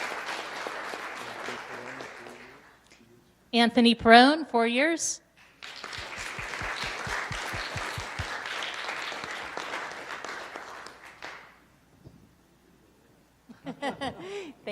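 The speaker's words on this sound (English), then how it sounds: "Let's give her a round of applause for 4 years." Applause breaks out at a Princeton special council meeting, a short burst of clapping between stretches of someone speaking into the room's microphone, with a second brief round near the end.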